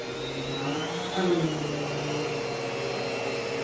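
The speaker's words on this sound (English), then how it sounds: "I've noticed the brush roll motor on this one has gotten a little whiny over time" The brush roll motor of a vacuum cleaner whines as it spins up. A thin, steady, close whir with a faint rising tone holds for a few seconds, swelling slightly partway through.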